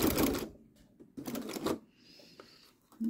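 Home sewing machine stitching and backstitching a scrappy autumn leaf potholder, short loud bursts of mechanical rattling separated by quieter pauses.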